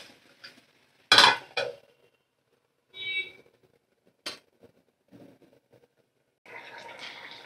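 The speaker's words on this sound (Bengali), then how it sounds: "এবার সমস্ত সবজি সিদ্ধ হওয়ার জন্যে ঢাকা দিয়ে দেব।" A lid is set on a pan of simmering vegetables (potato, cauliflower, broccoli) for a fish dish: one sharp metallic clank, then a few lighter clinks and taps, with a soft bubbling rush at the end.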